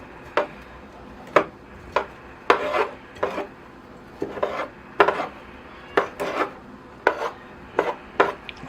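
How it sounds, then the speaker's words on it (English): A tool combs out the surface roots of a Virginia creeper bonsai in a series of sharp, close scratching strokes, roughly one or two per second, each a short rasp through soil and roots, with no talk. "So now I can comb out these surface roots."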